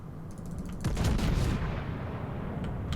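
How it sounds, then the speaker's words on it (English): Secondary guns of the battleship Preussen firing in the naval game World of Warships, a burst of booming gunfire with a heavy rumbling swell that fades into a low sustained roar. "You look like you might be secondary spec if your guns are opening up on the, presumably the Bismarck."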